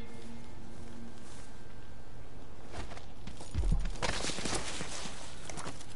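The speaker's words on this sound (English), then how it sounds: "Horse." Horse hooves clip-clop in a video game, a few soft steps surfacing midway through a steady bed of game music and ambience, with no talking.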